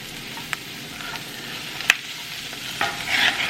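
Garlic and morel mushrooms fry in a pan with a steady, close sizzle, broken by a few sharp clicks of a utensil stirring against the pan and a brighter hiss swelling near the end; no one speaks.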